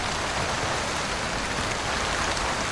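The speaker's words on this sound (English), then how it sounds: "The tent couldn't withstand so much rain and mud." Steady, even rain pours down in the video game Portrait Of A Torn, a dense broadband hiss of drops on a surface and mud around a tent, constant throughout with no voices.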